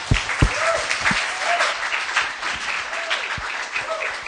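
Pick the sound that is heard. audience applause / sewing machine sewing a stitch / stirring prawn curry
audience applause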